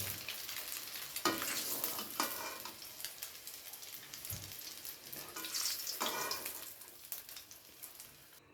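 Boiled eggs and potatoes shallow-fry until lightly browned for a mutton dak bungalow curry, with a soft, steady sizzle and occasional stirring scrapes, fairly quiet throughout.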